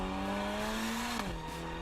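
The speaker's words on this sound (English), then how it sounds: "the exhaust note is slightly more subdued than the fever-pitched wail of the outgoing model" Exhaust note of a 2016 Ferrari California T, a steady tonal engine drone holding pitch, then dipping briefly and settling lower as the revs shift, heard fairly close with no talk over it.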